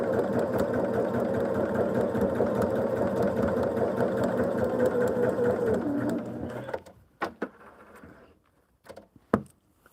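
Sewing machine stitching a hexagon quilt seam runs steadily and close for about six seconds, then stops, leaving a few faint clicks and handling taps.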